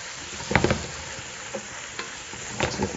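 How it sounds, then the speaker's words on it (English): Mushrooms and onions sauté in a pot for a crab chowder, a soft continuous sizzle broken by a few sharp stirring scrapes, close up with no talk. "Okay, now our mushrooms are starting to cook down a little bit."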